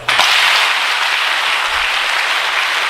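An audience at a Kolkata life-lessons seminar claps together on cue, starting with a sharp onset, then a loud, dense, sustained wash of hands held evenly for about three seconds.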